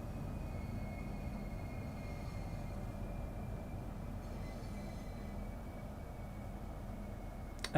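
A Class 305 electric train sits at a platform in Train Sim World 2, giving off a steady low idling hum with a faint whine and a brief click right at the end.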